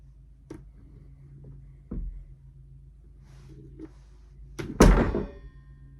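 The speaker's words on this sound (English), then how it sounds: "they just pushed the door closed" A door in the 2024 horror film Its Name Was Mormo is pushed shut: a soft muffled thud, then a heavier, louder thump near the end, set against a quiet, low ambient hum.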